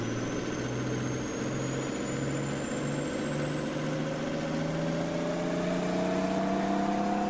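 A truck engine in Farming Simulator 19, revving steadily upward in a continuous mechanical drone with rising pitch, loud and close throughout, no talk.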